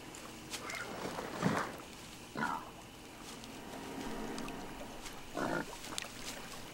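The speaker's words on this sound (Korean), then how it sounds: "댐 기슭 산에서 먹을 것을 찾아 내려오는 멧돼지들." Wild boars come down the mountainside by a dam to forage, giving a few low, rough grunts and snorts at irregular intervals, moderately close amid quiet outdoor background noise.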